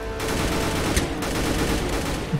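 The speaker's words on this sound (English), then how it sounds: "I can't shoot his tires." Gunfire rattles nonstop in the Roblox game Mad City as a player shoots at a car's tires, a dense, fast, continuous volley with no voices over it.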